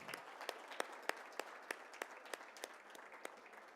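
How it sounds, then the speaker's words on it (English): Audience applause at a school Hispanic Heritage Month celebration, faint steady clapping from a distant crowd with a few sharper individual claps standing out at a regular pace. "Let's give a nice round of applause"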